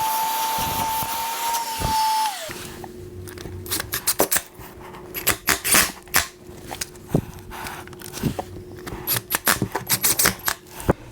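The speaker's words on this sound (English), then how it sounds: "you should vacuum out the dust out of the holes" A vacuum cleaner hums after a brief whine, sucking dust out of drilled floor holes, while sharp clicks and scraping taps repeat irregularly over the steady suction noise, close by.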